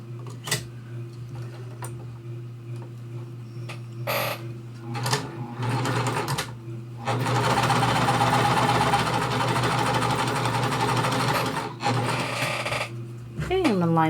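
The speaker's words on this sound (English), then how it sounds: "I'm just gonna sew it through, not even bother clipping" A sewing machine stitches straight through a pieced cotton quilt square in bursts, its motor whirring steadily for several seconds with brief pauses and small clicks, fairly close and loud.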